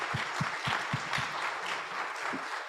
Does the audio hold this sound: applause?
yes